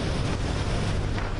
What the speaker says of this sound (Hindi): पश्चिम बंगाल के दीघा के समंदर में हलचल तेज है, लहरें दहाड़े मार रही हैं।